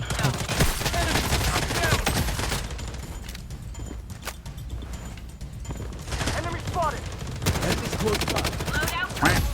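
Loud, close gunshots from a KAR98 rifle in the video game Blood Strike, with heavy cracks clustered at the start and more shots scattered throughout, while someone talks excitedly over the firing.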